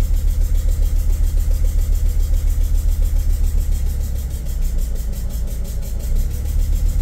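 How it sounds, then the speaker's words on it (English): T1N Sprinter van diesel engine running close by after an injector leak repair, a loud steady low rumble with mild rev rises and dips, no talking. "Rev it up a little more."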